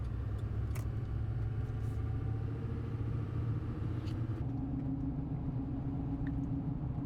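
A car drives along a rural road after turning off a highway, its engine and tyre rumble steady and close throughout, with no voices.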